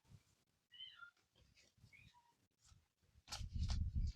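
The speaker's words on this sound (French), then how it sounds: "il y a mon chat qui miaule" A house cat meows several times indoors, short rising and falling calls spread across a few seconds, followed by louder rustling handling noises close to the microphone near the end.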